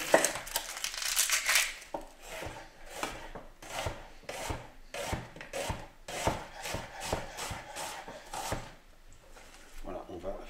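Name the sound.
chopping onions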